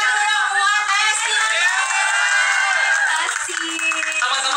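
At a song launch, a crowd cheers and applauds, with shrill young voices shouting and whooping over steady clapping as the noise stays loud and lively.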